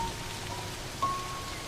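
Sudden torrential downpour in the Serengeti during the rainy season, a dense, steady hiss of heavy rain filling the whole stretch.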